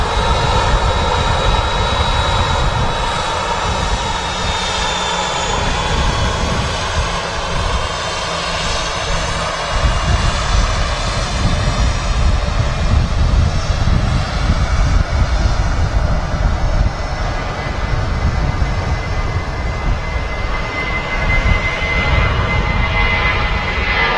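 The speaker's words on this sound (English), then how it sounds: "Next to depart will be the British Airways to London Heathrow" A British Airways airliner departing Manchester Airport, a loud, steady jet engine roar filling the air throughout, with a high whine threading through the rumble as it powers away.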